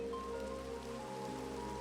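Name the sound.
rain falling in Minecraft video game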